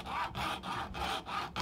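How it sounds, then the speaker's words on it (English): A hand saw cuts off a piece of material during RV installation work: about five even back-and-forth rasping strokes, close and fairly loud, each separated by a short gap. "Cut off this piece we don't need."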